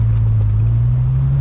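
A Dodge Viper sports car's 400-horsepower engine rumbles with a deep, steady, loud drone held at a constant pitch for a brief moment, close by and with no voices over it.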